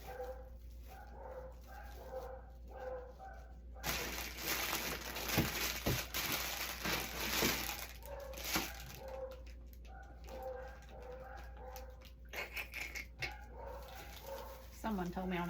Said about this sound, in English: my dogs are too loud